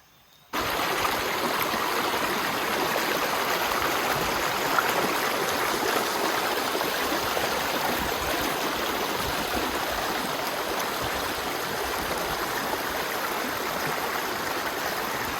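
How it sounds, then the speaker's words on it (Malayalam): A river flowing right behind a colony, a steady, loud, continuous rush of moving water that keeps an even level from start to finish with no talking. "പുറകിലായിട്ട് തന്നെ ഒരു പുഴ ഒഴുകുന്നുണ്ട്."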